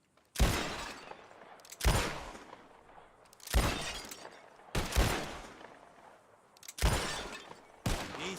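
Revolver shots breaking glass bottles in a Red Dead Redemption 2 shooting contest: six loud, sharp blasts spaced roughly a second and a half apart, each with a bright crack and ringing tail of shattering glass, no talking.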